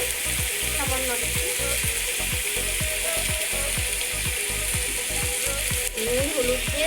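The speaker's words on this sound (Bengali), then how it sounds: "ভালো করে ভেজে নেব। এবার দিয়ে দেবো নুন হলুদ" Pumpkin pieces fry in hot oil in a pan with salt and turmeric while preparing rui posto, a steady loud sizzle under a rhythm of repeated scraping stirs from a spatula, with no talking.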